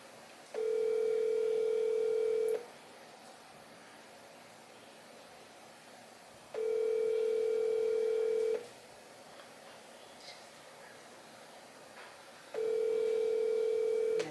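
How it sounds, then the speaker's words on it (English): Phone ringback tone before a call goes to voicemail: three steady two-second tones spaced evenly by silent gaps, clear and moderately loud, with no voices. "Your call has been forwarded to voicemail."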